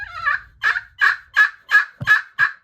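A friction turkey call is drawn to make a yelp: a loud, close run of seven raspy, evenly spaced yelping notes, each a short nasal bark, with no voices over it.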